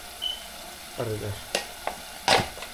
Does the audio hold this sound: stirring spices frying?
yes